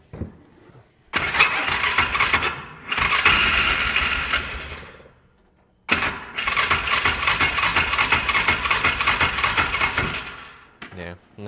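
A Polaris Ranger side-by-side cranks and fires twice, each time revving loudly for a few seconds before stalling and dying out, leaving short silences between attempts.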